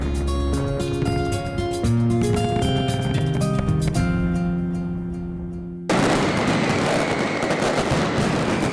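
Music plays, then dense crackling bursts of fireworks erupt at the Fallas festival in Valencia, Spain, loud and continuous like a rapid barrage.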